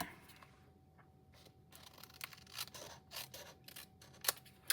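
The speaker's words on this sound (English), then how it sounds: "I'm going to trim it." Scissors trim card paper in a sequence of soft, close snips and papery rustles, fairly quiet, with short pauses between cuts.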